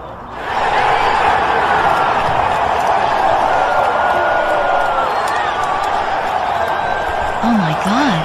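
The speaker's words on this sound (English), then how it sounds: "They're cheering for me." An angry crowd roars and cheers continuously, a dense sustained wash of many voices.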